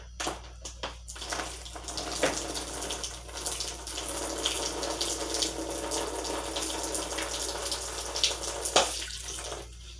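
Water draining steadily out of a gravity bong, a continuous close splashing rush with a few brief knocks near the start, running alone for about ten seconds.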